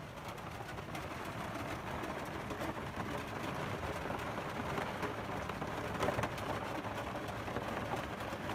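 Steady rain falling at a French campsite, a dense continuous hiss at even loudness with scattered drop patter and one slightly stronger swell near the end, no voices.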